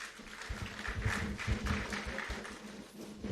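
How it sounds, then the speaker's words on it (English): An audience at the inauguration of a new Pharmaceutical Society of Nigeria president applauds: a dense, continuous patter of many hands clapping at moderate distance, swelling slightly and holding for several seconds. "A big round of applause for our own president."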